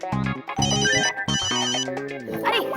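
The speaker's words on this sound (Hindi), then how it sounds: "अरे जॉनी का ही फोन आ रहा है।" An incoming call rings as a bright, melodic phone ringtone with repeating tonal phrases, loud and close, ending in a short cluttered swirl of sound.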